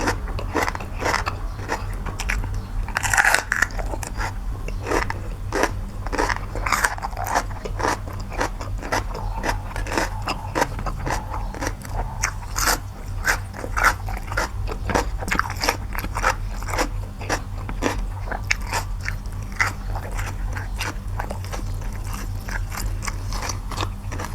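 A crisp sweet pepper is bitten and chewed close to the mic, giving a continuous run of wet, crackly crunches with no talking.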